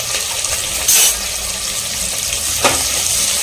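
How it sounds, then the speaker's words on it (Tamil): Onions sauté in a pan over a high flame for a basmati rice vegetable biryani, giving a steady, close sizzle with a couple of brief stirring scrapes. "ஆனியன் நல்லா வதக்கலாம்."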